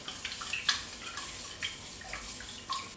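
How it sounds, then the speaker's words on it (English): Jasmine rice is washed by hand in water, giving faint, close sloshing and splashing with soft irregular bursts, quiet and without talking. "Second step, wash your rice."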